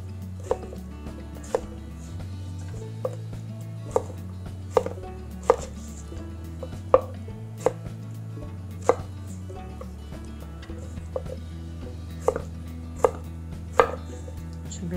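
A knife dices onion into cubes on a cutting board, with crisp, irregular chops repeating at close range across the whole stretch, over a low steady hum.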